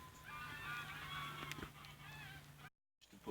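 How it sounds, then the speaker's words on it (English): Geese flying in over a riverbank camp, honking in repeated calls from a moderate distance over a low steady hum, followed by a brief cut to silence. "A load of geese flying in."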